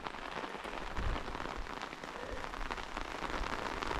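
Steady rain falls in a Carpathian forest, a dense even patter of drops on leaves and surfaces, continuous and fairly close with no voices.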